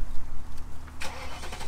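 A BMW V8 engine cranks and catches, a loud rough burst of ignition after a brief low rumble, close by.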